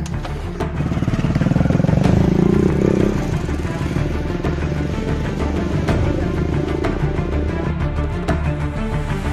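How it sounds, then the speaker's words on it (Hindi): A motorcycle engine runs close by with a loud, steady throbbing idle and a slight rise in revs early on, the putter continuing evenly throughout. "बाइक पे बैठ भूसा"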